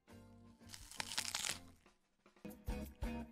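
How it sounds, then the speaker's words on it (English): A large, strong raw onion is bitten into and chewed, giving loud, close, wet crunches in several bursts with short pauses between them and no speech. "Do you want the ASMR crunch?"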